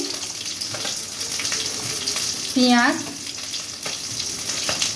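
Pond-caught tilapia frying in oil, a steady close sizzle running throughout, with a brief tap-water splash in the middle and a single spoken word.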